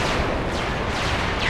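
In a Supreme Commander battle, a torpedo bomb explosion rumbles as a loud, continuous blast of low noise with faint whistling streaks cutting through it.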